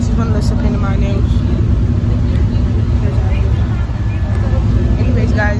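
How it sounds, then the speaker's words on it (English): Steady low rumble of a bus engine and road noise from inside a moving bus on the way to a soccer game, continuous and loud throughout, with a voice talking over it. "right now, we're on the bus going to the soccer game"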